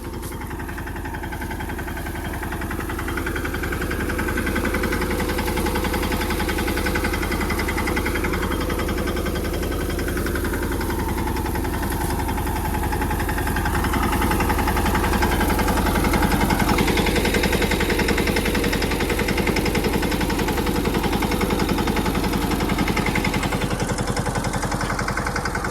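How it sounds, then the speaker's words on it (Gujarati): A mini tractor engine running close by in a field, a steady low mechanical drone with constant vibration and clatter that holds an even level throughout. "હવે નયનભાઈ આપણે ટ્રેક્ટર વાળે છે"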